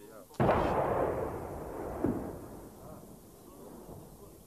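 Serbian artillery fire pounds a Bosnian mountain bunker: a loud, close blast erupts and rolls on with a long rumbling decay, then a second, smaller boom follows a moment later amid lingering noise.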